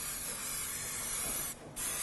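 Aerosol brake cleaner sprayed onto the rear drum brake of a Ford Fiesta, a steady close hiss that cuts out briefly near the end and then resumes.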